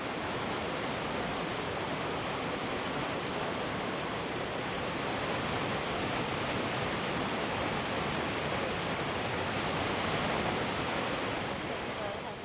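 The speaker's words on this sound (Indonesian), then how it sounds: "di dekat air terjun terkenal" Steady, dense roar of falling water from a well-known waterfall in northern Laos, near a bear rescue centre, unbroken and fairly loud for the whole stretch with no voices.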